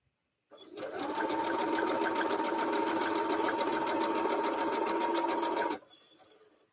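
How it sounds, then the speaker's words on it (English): A sewing machine runs in one long, steady, close burst of fast buzzing stitching as quilt blocks are sewn together, starting and stopping abruptly after about five seconds, with no talking. "I'm sewing all the parts into the final blocks now, all 80 of them."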